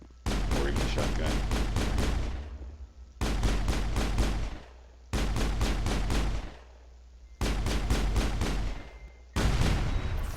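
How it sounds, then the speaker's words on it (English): Pistol fire in the video game Mass Effect comes in five loud clusters of rapid shots, each cluster lasting a second or two and separated by brief pauses, with no speech over it. "You just have to shoot things with your pistol the entire time."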